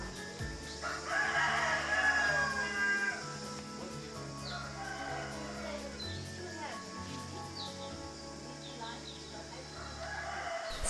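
Fighting cocks in Sulawesi, with roosters crowing through a long stretch, a loud crow near the start followed by further fainter crows and clucks, heard beneath people talking in the background.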